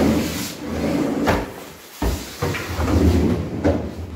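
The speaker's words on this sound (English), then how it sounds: "look at these big gigantic drawers, very smooth in operation, as you can see." Large kitchen drawers in a Gurgaon builder-floor house sliding open and shut several times, with soft rolling glides and a few muffled thuds as they close, fairly near and with no talk.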